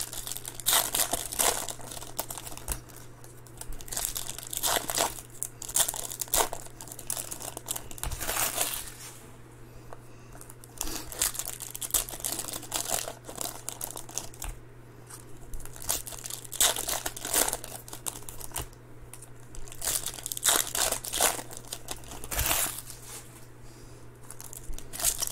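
2019 Topps Chrome baseball hobby card packs torn open and handled, with repeated close crinkling and tearing bursts over a low steady hum, no voices.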